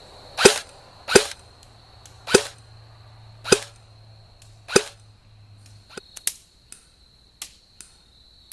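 An Echo1 Troy MRF-S airsoft rifle fires semi-auto outdoors: five sharp, evenly spaced cracks, followed by quieter, faster scattered shots, with a steady faint hum in the background.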